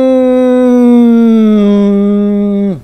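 A voice imitates a passing car with a single sustained hum that holds its pitch, then drops lower and cuts off.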